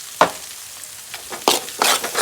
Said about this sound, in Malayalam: ഇളക്കി കൊടുക്കുന്നുണ്ട്